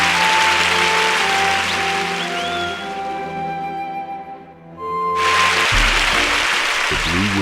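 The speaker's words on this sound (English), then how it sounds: "The crowd gives one final cheer as the newly married couple departs back to Leah for song and" Cheering from a crowd at a wedding in the video game Dungeons of a Wizard 2 forms a broad wash of noise under sustained musical tones. It dips briefly before swelling back up loudly.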